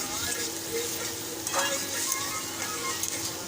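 Chopped onion with salt sizzles and fries in a pan for a radish vegetable dish, a steady close crackle with occasional scraping stirs of a spoon against the pan.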